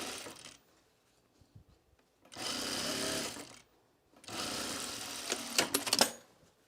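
A sewing machine stitches a French seam on a self-drafted blouse in two close, loud whirring bursts separated by quiet pauses, with a few small clicks in between.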